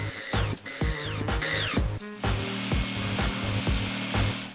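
A power saw cuts a hook shape out of 12mm plywood, buzzing loud and close in a series of short strokes that rise and drop in pitch as the blade works through the wood.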